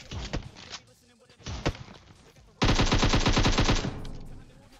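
Gunfire in the mobile game PUBG Mobile, with a few scattered single shots and then a loud, fast rapid-fire burst lasting over a second, alongside a voice talking.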